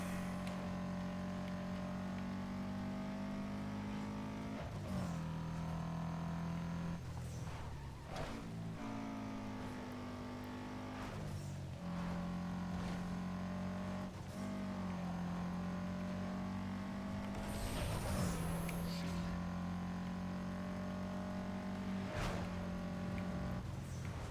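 Race cars in the Need for Speed Underground 2 video game drone through an endurance race, their engines holding a steady whine that rises and falls with gear shifts and occasional sharp transients.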